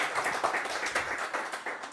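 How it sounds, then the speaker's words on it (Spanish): A church congregation applauds during a Spanish-language service, a dense burst of many hands clapping at moderate volume, fairly steady for about two seconds. "Denle un aplauso fuerte al Señor"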